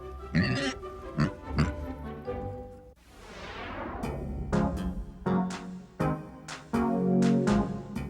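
A pot-bellied pig oinks and grunts in a string of short, loud snorts and squeals with brief pauses, close by and alone with no talking.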